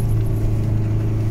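A 4WD engine labours in low first gear up a slippery bush track, a steady low rumble at constant throttle with faint rattles, close and continuous.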